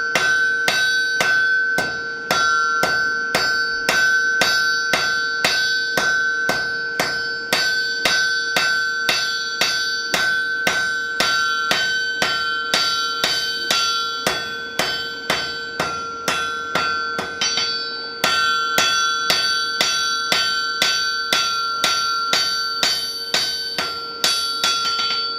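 At a blacksmith conference, a smith hammers hot steel on an anvil to draw it down, with loud, evenly spaced ringing blows and a sustained metallic tone. A brief break comes partway through before the steady strikes continue.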